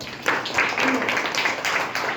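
A class of students clapping their hands together in a classroom, a burst of many quick overlapping claps, close and fairly loud, lasting about two seconds.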